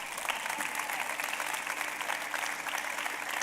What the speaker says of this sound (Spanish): Un aplauso para Aster Vera